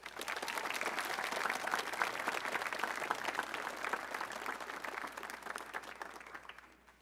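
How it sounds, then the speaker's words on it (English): A crowd at a school honors assembly claps steadily and loudly for several seconds, then the applause tapers off toward the end. "Let's give Haley another round of applause"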